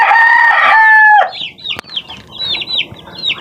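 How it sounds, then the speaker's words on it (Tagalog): Newly hatched chicks and a hen in a brooding setup: a sustained, loud crowing-like call for about a second, then a run of high, quick peeping chirps close by. "Itong aking sisiw."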